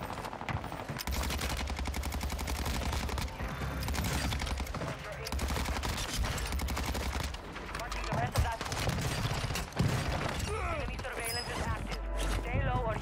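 Rapid automatic gunfire rattles from a broken Cronen Squall in a video game match on the Vondel Park map, coming in dense sustained bursts with brief gaps while voices talk over it.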